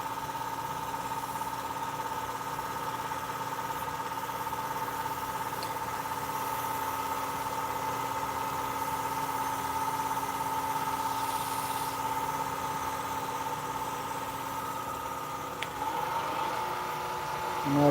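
A woodturning lathe spins at about 1800 RPM, giving a steady, even mechanical hum with a constant tone that stays level throughout, close by.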